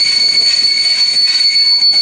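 A diesel railcar runs on a non-electrified branch line. A steady, close, high-pitched wheel squeal rides over continuous rail noise with no pauses.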